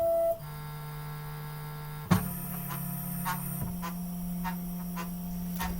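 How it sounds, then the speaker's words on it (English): CNC milling machine homing slowly, a quiet steady motor hum with a higher servo whine kicking in partway, faint ticking clicks and a small clunk as the axes move. "That homes the machine."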